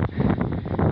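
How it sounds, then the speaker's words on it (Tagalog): Strong wind buffets the microphone during a motorcycle ride from Las Piñas to Baler, a loud continuous low roar with gusty surges and no speech. "lakas ng hangin par"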